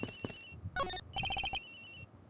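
A mobile phone rings in the Ace Attorney Investigations video game, a short electronic ringtone of quick repeated beeping notes, faint and heard alone.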